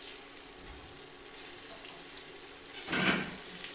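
Food frying in a pan on an induction hob, with a steady low sizzle that swells into a louder, brief burst of crackling near the end.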